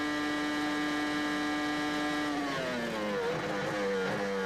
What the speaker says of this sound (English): coming from about 210, 215 miles an hour down to 70 miles an hour, hard on the brakes into turn 1